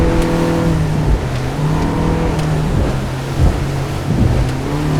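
A Quintrex 460 Renegade boat with a Yamaha F70 outboard motor runs on open water at half revs. It makes a steady, droning engine hum with wind and water noise around it and no talking.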